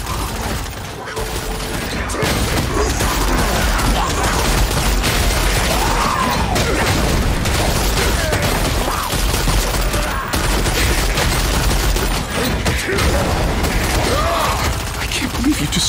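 A bridge gets destroyed in Lost Ark with dense, continuous crashing and rumbling, rapid bursts like gunfire, clattering mechanical debris and blasts. Voices shout in the background of the loud, chaotic scene.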